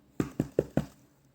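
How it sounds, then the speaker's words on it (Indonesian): Four quick, evenly spaced knocks on a bedroom door, crisp and close, followed by quiet. "Nusa mengetuk pintu kamar Uma dengan antusias."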